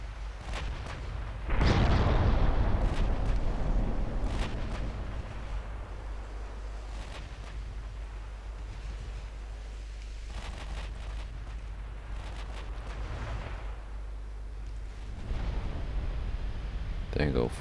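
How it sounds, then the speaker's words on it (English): A 16-inch battleship gun firing in the naval video game Ultimate Admiral Dreadnoughts, one heavy booming blast with a long rumbling tail over a steady low engine drone, followed later by fainter distant booms, with speech over it. "Amazing what you can do with the 16-inch gun on a battleship."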